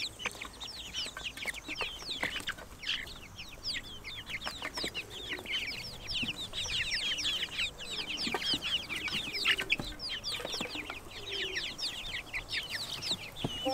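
Chicks and hens in a coop keep up a dense, continuous chorus of high peeping and clucking, close and fairly loud throughout with no talk.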